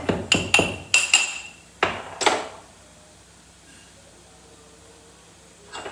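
Mustard seeds being coarsely crushed for carrot pickle: a quick run of sharp, close pounding knocks over the first two seconds, then near silence until one faint knock at the end.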